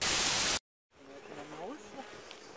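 Honeybees buzzing around a hive waterer outdoors, a steady soft drone with wavering tones after a brief loud burst and a moment of silence, fairly close and continuous.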